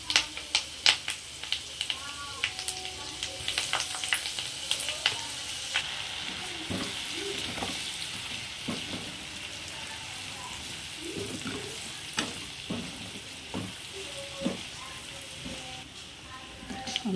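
Ginger garlic paste and curry leaves fry in hot oil for a fish pickle, a soft continuous sizzle with scattered clinks and stirring taps throughout.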